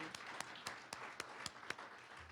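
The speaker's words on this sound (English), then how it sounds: "Can we clap for that?" Applause from an audience at a sobriety court awards ceremony in Buncombe County, heard as a faint, steady run of evenly spaced claps about four per second, sounding like a small group clapping in rhythm.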